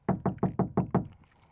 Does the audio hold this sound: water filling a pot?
no